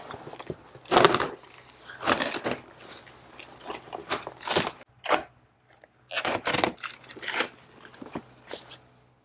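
A knife slits open the packaging around new tires, giving close, irregular bursts of scraping and tearing with short quiet gaps between cuts.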